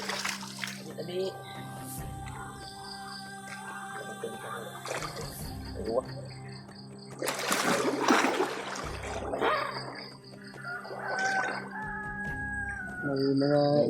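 Chickens in a rural mountain area near a river cluck and a rooster crows fairly close, heard in short bursts between people talking and splashing water.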